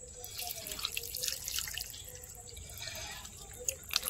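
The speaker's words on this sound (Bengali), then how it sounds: "আমি গোড়াতে এখন জল দিয়ে দেবো একটু।" Water poured onto the base of a potted plant, a soft continuous splashing and trickling with faint drips, quiet and close.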